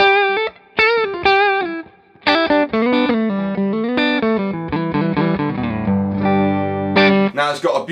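A heavily overdriven electric guitar plays through a Hamstead Artist 20 RT combo amp with extra gain, loud and close, with sustained distorted notes and chords, quick melodic runs and a final scrape.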